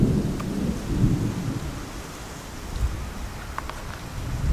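Thunder rolls outdoors as a long, low rumble that swells and fades across the span, with faint rain-like hiss and a couple of small clicks, no voices.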